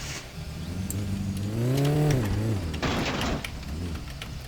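A car engine in a video game cranks and revs, its pitch climbing to a peak then falling away, followed by a brief burst of noise, with the tone sounding close and fairly loud.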